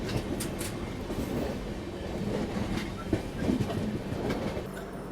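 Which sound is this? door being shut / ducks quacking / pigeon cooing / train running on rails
train running on rails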